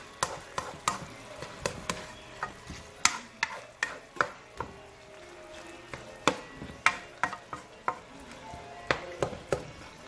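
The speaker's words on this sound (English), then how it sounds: "I'm giving this last stir." Chicken pieces frying in a pan are stirred with a utensil, giving a quick series of sharp clicks and clacks against the pan over a low, quiet sizzle, close and irregular in rhythm, with nobody speaking.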